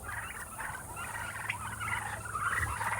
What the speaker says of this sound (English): Wild turkeys are excited.